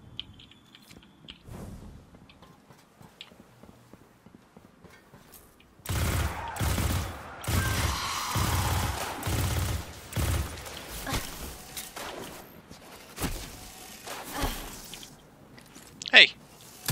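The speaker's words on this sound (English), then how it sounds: "They seem to have some interesting, like, charge-up weapons." Enemy charge-up weapons in Destiny 2 fire in a dense, crackling barrage of blasts and impacts in the middle, with quieter shots before and after and a voice talking now and then.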